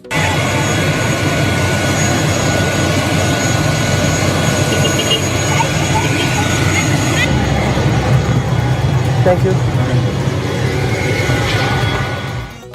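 Steady, loud airliner cabin roar during a flight from Salem to Kochi, a continuous broadband engine drone filling the whole stretch with faint voices beneath it.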